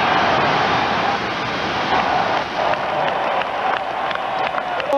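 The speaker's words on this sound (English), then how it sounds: "give a round of applause to the Scottish Claymores and Jim Kreiner," Stadium crowd applauding and cheering the Scottish Claymores as 1996 World Bowl champions in Edinburgh, a dense, loud, continuous roar of clapping and cheers that holds steady throughout.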